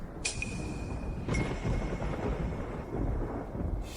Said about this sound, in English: Thunder and lightning, but no rain.